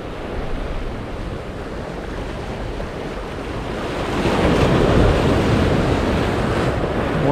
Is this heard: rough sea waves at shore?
yes